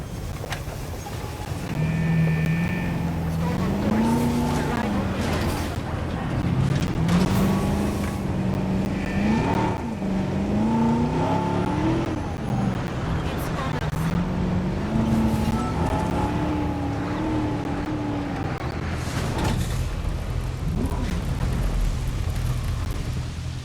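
A ranger vehicle engine in Jurassic World Evolution, a steady droning motor with rising and falling revs as it drives, continuous and fairly close, with no talking.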